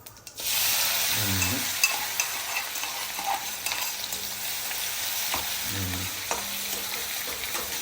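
Peanuts and green chilies fry with cumin in peanut oil, giving a steady loud sizzle throughout, with a couple of brief voices and occasional stirring clicks.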